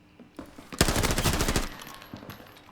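MP5 submachine gun in Arena Breakout: Infinite fired in one sustained full-auto burst of roughly a dozen sharp, close shots, preceded by a few faint clicks and followed by quieter tails.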